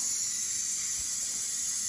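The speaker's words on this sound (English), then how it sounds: "the steam that's built up in here that was used to cook the meal now has to escape before we can open it" Steam hisses steadily from the quick-release valve of a Ninja Foodi pressure cooker after cooking chicken and rice, a continuous, fairly loud broadband rush lasting the whole moment without talk.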